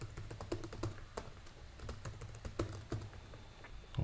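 Quiet, close keystrokes tap out a password on a computer keyboard while a proxy manager is set up for a server deployment, in a steady irregular patter of light clicks.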